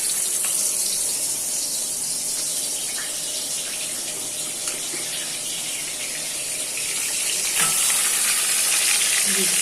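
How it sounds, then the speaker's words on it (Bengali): Pomfret fish sizzling as it fries in a pan, a steady broadband hiss of hot oil running throughout at a close, even level with small crackles and a slight swell near the end. "তো শুরু করা যাক মাছ ভাজা।"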